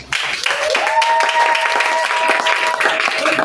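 A church congregation breaks into applause and cheering, a dense wash of clapping with a sustained voice or tone rising above it, close and loud for a few seconds.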